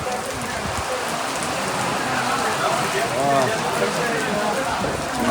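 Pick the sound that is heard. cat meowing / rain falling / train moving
rain falling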